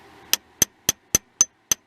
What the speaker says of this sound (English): I use this hammer to tune it up